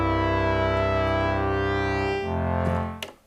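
A dry Prophet 6 analog synthesizer holds a buzzy sustained chord, loud and close, then the lower note drops away and the sound stops abruptly with a brief click.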